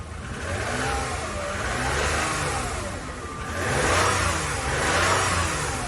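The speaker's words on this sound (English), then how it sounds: "let's give it some revs" A car engine revs up and down repeatedly, a steady mid-pitched roar rising and falling in waves, close by with no talking.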